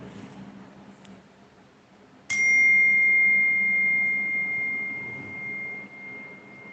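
A metal chime is struck once after a quiet stretch, ringing out as a bright pure tone that sustains and slowly fades, alone in a quiet room.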